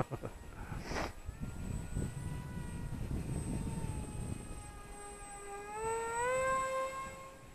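Glue & Fly F22 Micro parkjet model plane flying overhead, its small electric motor whining steadily and then rising sharply in pitch as it speeds up, with faint wind and background rustle beneath.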